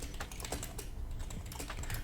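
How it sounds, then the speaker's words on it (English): Rapid, uneven keystrokes on a computer keyboard fill the whole stretch, a dense run of close clicks and taps with steady background noise and no talking. "I'm just typing the question"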